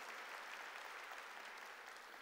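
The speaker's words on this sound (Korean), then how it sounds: "박수로 하나님께 영광 돌려야 돼요" A church congregation claps together in continuous, even applause that stays steady and fairly distant throughout.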